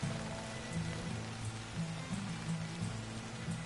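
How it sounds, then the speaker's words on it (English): Steady heavy downpour in Red Dead Redemption 2, a broad, even hiss of rain on the ground with faint low thumps of movement below, constant throughout and without voices. "Raining quite heavily."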